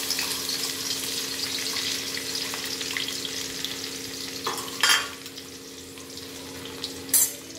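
Onions sizzle and crackle steadily in hot oil in a kadai, with a couple of brief utensil clatters rising over the frying.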